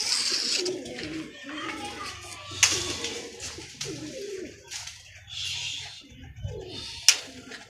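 Pigeons newly freed from a catching net coo in soft, repeated rounds close by, with a few brief wing flutters and someone talking intermittently over them.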